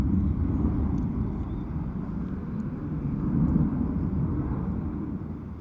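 A Wizz Air Airbus A320 taking off from Luton Airport in wet, windy weather, a steady, loud low rumbling engine roar that swells slightly midway and holds throughout, with no voices.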